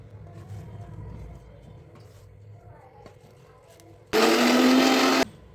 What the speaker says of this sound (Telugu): ఈ మొత్తం వేసేసుకొని మిక్సీ వేసుకుందాం